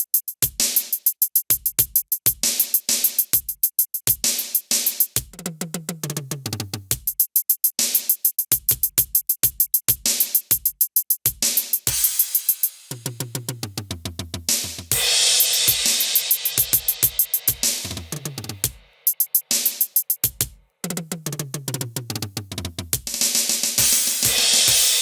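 Ludwig Total Percussion Pad playing its modified built-in electronic kit 'Machine', with sharp rapid electronic drum hits in fast patterns, synthetic bass drops and bursts of noisy cymbal-like wash, loud and busy throughout with no voices.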